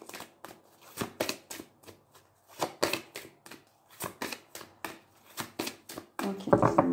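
Playing cards being riffle-shuffled by hand for a card reading, a dozen crisp rapid bursts in steady rhythm, close and alone with no talk, ending in a louder rustle of handling.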